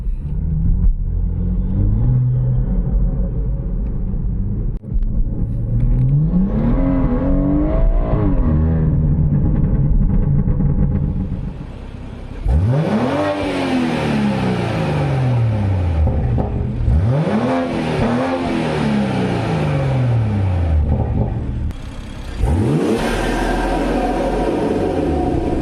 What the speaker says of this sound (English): the induction sound is a little bit different